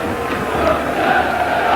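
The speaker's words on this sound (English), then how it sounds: "Chairman Don Robinson conducts the applause of the biggest 4th Division crowd of the season" Applause and cheering from a large football crowd at Hull City's ground during a 1982/83 Fourth Division match, a dense steady roar of clapping that holds throughout, fairly loud and continuous.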